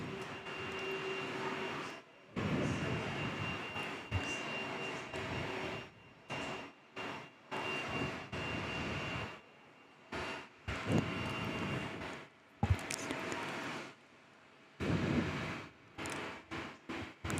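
A Qantas airliner, an A330, lining up on runway 03 at Perth airport, a distant steady engine roar that cuts in and out repeatedly, with no voices.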